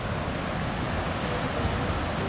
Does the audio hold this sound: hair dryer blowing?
no